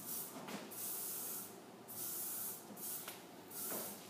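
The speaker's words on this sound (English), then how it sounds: "I'm spraying to give a little bit of a substance here" Hairspray misted onto hair at a Kerastase salon styling session: three short airy aerosol hisses with quiet pauses between them, close but soft.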